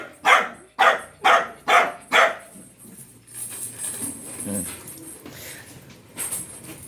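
A Dachshund and Askal mix dog barks five times in a quick, loud, evenly spaced run close by, followed by a person talking over softer background sounds.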